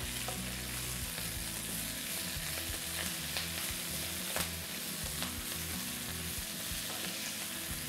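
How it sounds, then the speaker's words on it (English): Kale sizzling in hot oil in a pan, a steady close frying crackle with occasional stirring scrapes, continuous throughout without talk. "we're gonna cook that just for another few minutes until the kale begins to wilt and maybe get slightly brown"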